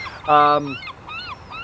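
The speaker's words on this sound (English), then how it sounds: "Seagulls" A few seagull calls ring out: one loud, strident squawk followed by softer, rising cries, with faint background noise.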